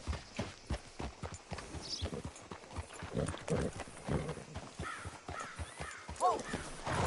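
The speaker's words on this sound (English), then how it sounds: "Hitch your horse up here." Horse hooves clip-clop on the ground in Red Dead Redemption 2, a steady walking rhythm of close, distinct footfalls with brief crow-like caws and faint voices in the background.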